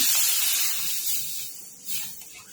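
Water poured into roasted semolina in a hot pan sets off a loud burst of steamy hissing that slowly fades, then flares briefly again as the pan settles.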